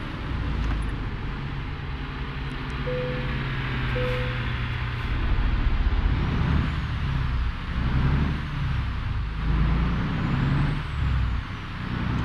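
A heavy truck in American Truck Simulator pulls away, its engine droning close and steady. The pitch rises and drops as it shifts up through the gears, with a short hiss early on.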